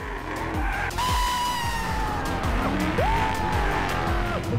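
Car tires squeal in long, shrill wails over a loud revving engine of a 1968 Charger or Mustang Bullitt, the screech rising and bending as the car slides, continuous and close.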